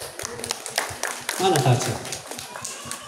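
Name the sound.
congregation applause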